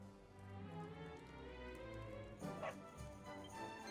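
Dog barks and yips in the video game Dragon Quest XI, several sharp close barks over a steady game music bed, with a louder burst of yapping near the end.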